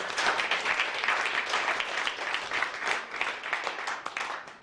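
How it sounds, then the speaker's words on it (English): Sustained audience applause, many hands clapping densely and evenly throughout, fairly close and full. "big round of applause for Jim and Cynthia."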